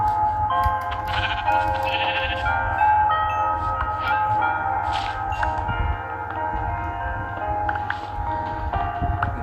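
Sheep bleating in the video game Minecraft: repeated nasal bleats over about nine seconds, loud and steady, set against a continuous tonal in-game background.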